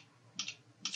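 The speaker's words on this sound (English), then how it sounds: "So I'm just going to type a password in here." Two quick clusters of keystrokes on a computer keyboard while a Wi-Fi password is entered, soft close clicks separated by a brief quiet pause.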